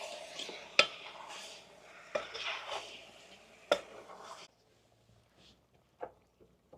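A spoon stirs country chicken curry in a cooking pot, giving scraping swirls and a few sharp clanks against the metal rim, fairly close, before it settles into a quieter stretch with occasional soft knocks.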